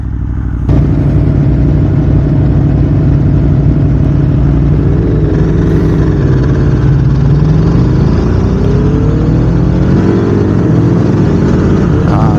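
A 2022 Aprilia Tuono V4 Factory motorcycle with an Akrapovic slip-on exhaust and a race map runs steadily, loud and close, its engine note rising and falling through several revs over a deep, continuous rumble.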